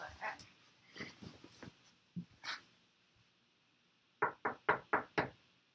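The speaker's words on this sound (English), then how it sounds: "they heard a knock at the door" Five firm knocks on a door ring out close together near the end, preceded by scattered softer thumps and a dog's whimpers and yips.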